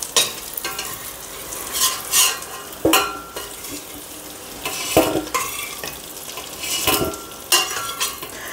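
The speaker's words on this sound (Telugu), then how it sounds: "సో ఇవి కూడా కొద్దిగా ఫ్రై చేసుకుందాం." Potatoes fry in hot oil for egg biryani, a steady sizzle broken by repeated stirring scrapes and clinks of a utensil against the pan, close and fairly loud with no talking.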